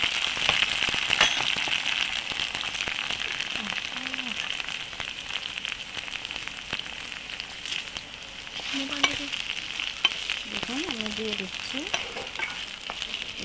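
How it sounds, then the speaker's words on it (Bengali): Capsicum and vegetables sauté with spices in a pan, making a continuous crackling sizzle with scattered pops, while a voice speaks faintly in the background. "মশলা দিয়ে দিয়ে একটু সটি করে নেব"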